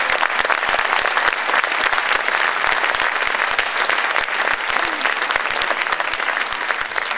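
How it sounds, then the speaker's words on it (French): Concert audience at a school orchestra performance applauding music teachers, a loud, continuous crowd of hands clapping with crisp individual claps standing out over the steady roar. "on peut les applaudir bien fort"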